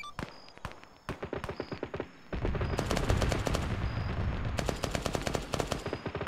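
Salvos from a 30 mm cannon in an Arma 3 combat game, sharp rapid bursts of repeated shots, first spaced single reports, then dense sustained firing with a heavy low rumble, loud and close.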